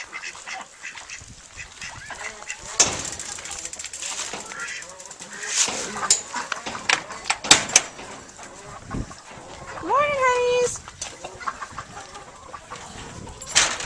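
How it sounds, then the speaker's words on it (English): Hens and roosters in a backyard coop with ducks nearby cluck and call in scattered bursts, including a clear rising call near the end, while someone speaks briefly over them. "I'm going to let my chickens out, let my roosters out."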